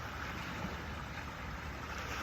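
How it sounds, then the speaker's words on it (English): Steady surf from ocean waves forms a continuous rushing wash, faint and even throughout. "the sound of the waves are both appearing within experiencing"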